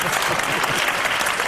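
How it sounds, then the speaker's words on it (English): Audience applause in a televised BBC debate on the new European Union constitution: dense, steady clapping from a sizable crowd, loud and continuous throughout the short stretch with no voices rising above it. "You're not supposed to clap then."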